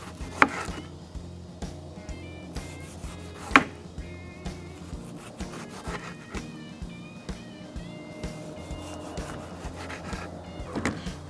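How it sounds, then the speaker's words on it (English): Knife cutting a tomato into thick slices on a cutting board, a few sharp chops and taps standing out over a busy kitchen background with no talking. "we're gonna cut up a tomato"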